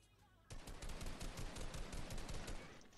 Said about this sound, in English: I thought that it was you shooting me